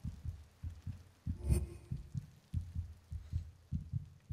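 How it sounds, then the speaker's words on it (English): Rapid heartbeat in the horror video game Among The Sleep, a steady, quick double-thump pulse repeating throughout, low and prominent with no talking. "Why is my heart beating so fast?"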